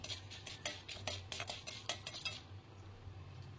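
Roasted chana dal and cashews stirred in a pan with a spoon, giving a run of quick close scraping strokes that fade out toward the end.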